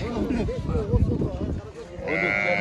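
Sheep at a livestock market bleat repeatedly, close and loud, while people haggle over prices alongside them.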